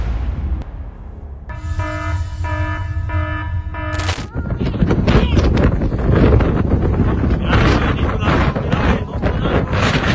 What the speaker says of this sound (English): A sudden, strong gust of wind turned a flat roof in Texas into a survival arena.